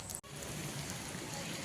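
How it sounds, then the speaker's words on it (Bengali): Rain falls steadily in a broad, even hiss outdoors near a large fish market by the river, with a momentary dropout near the start. "বৃষ্টি শুরু হয়ে গেছে গাইস"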